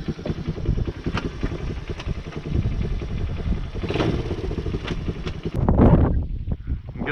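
A Kayo Bull 150 ATV engine runs steadily while the quad backs up outdoors. The motor note sits under heavy wind buffeting on the microphone and swells near the end.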